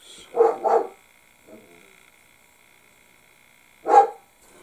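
A dog barks indoors: two quick loud barks close together, a faint short sound, then a single sharp bark after a pause, with near silence between.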